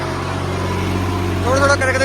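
A New Holland 3630 tractor engine holds steady around 1700 rpm in a medium gear while pulling a 3MB plough, a constant low droning hum with a faint rise toward the end.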